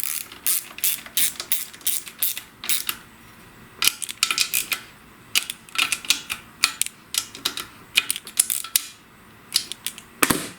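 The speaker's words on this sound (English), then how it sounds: "So I'll just snug these bolts." Ratchet wrench snugging bolts on a dead lawn tractor under repair: close, dry bursts of rapid clicking repeat in irregular runs with short pauses between, and no talking.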